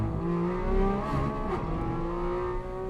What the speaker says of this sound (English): You can see him really accelerating right there, which is what the 911s are good at